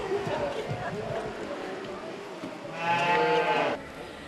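A sheep at a livestock show gives one clear bleat near the end, rising above a busy background of crowd noise and distant talk.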